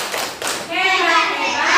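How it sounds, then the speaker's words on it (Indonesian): A school class of children does a rhythmic clap chant, a couple of sharp hand claps followed by children's voices chanting together, close and loud. "Coba kasih tepuk hebat dulu."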